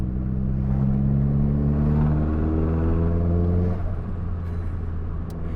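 A Nissan Pulsar GTi-R turbo engine burbles and revs in a loud, steady drone with rich low harmonics, holding for nearly four seconds before easing back.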